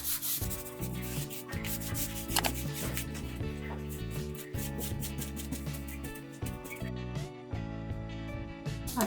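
Continuous brisk rubbing as a sock smooths glued paper onto a cardboard box, dense scratchy strokes close to the microphone, with no pauses.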